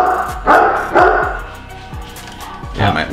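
A pet dog barks loudly and close in a home kitchen, several sharp woofs in an irregular burst, set against a steady low background hum.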